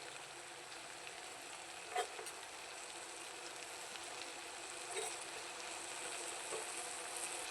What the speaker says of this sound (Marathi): टोमॅटो मऊ होईपर्यंत परतायचे.